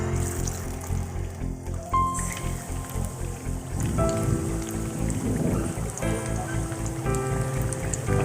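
Fish fillets deep frying in hot oil over a low flame, giving a steady, dense crackling sizzle throughout, close and fairly loud, with faint kitchen background noise.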